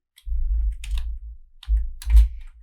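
Python code is typed on a computer keyboard in two quick, close bursts of clicking keys, separated by a short pause.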